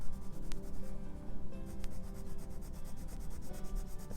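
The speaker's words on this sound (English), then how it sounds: "now I'm like burnishing it" A white Posca paint pen pressed hard over colored marker to burnish it, giving a steady close scratchy rubbing with a couple of sharp ticks, no voices.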